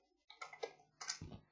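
Someone types an ADB connect command on a computer keyboard, with a short run of soft, close keystroke clicks in quick irregular bursts.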